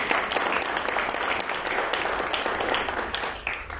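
Audience at an education company inauguration gives a sustained round of applause after a speech, dense even clapping close by with scattered louder claps and little voice beneath.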